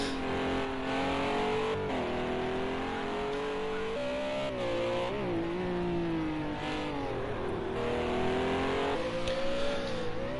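A Renault RS01 race car engine in Project Cars 2 at the Catalunya circuit drones steadily throughout, its pitch rising and falling through gear changes and throttle shifts, loud and continuous with no pauses.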